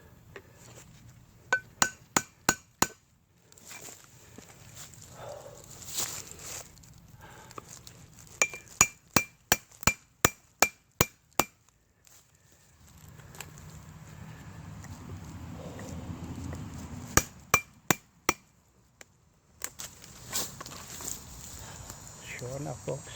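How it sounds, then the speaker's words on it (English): A hammer drives a metal chisel into a dead stump to pry out fatwood: sharp ringing clinks in quick bursts of repeated strikes, close and loud, with quiet stretches, crickets in the background and someone talking in between. "Oh yeah, that calls for the chisel."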